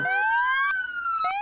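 Police sirens wail at an outdoor joint ceremony in Berkeley County, with several loud, close sirens sweeping upward in pitch and overlapping, with no talking.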